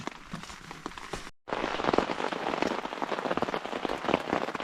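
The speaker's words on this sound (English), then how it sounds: "It's still raining. Rained steady all night." Steady rain patters on a tent at an Algonquin Park campsite in spring, a dense, close, even drumming that cuts out for a split second and resumes just as steadily, with no voices.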